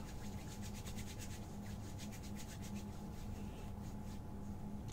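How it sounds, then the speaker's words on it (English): Hands rubbing anti-perspirant lotion together, a continuous close, soft swishing and rubbing with rapid rhythmic pulses, quiet and steady throughout, over a low hum with no talking. "And then you just have to rub your hands."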